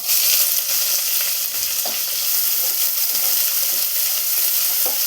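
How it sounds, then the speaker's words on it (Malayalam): Chopped onion fries in oil with a loud, steady sizzle, broken now and then by faint scraping from stirring. "ഇതിലോട്ട് ഒരു സവാള ചോപ്പ് ചെയ്ത് വെച്ച് ചേർത്ത് കൊടുക്കാം."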